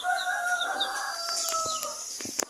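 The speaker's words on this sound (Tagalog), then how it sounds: "Ito yung ating inahin." Hens call nearby with drawn-out, wavering notes, and a few short, sharp clucks come near the end.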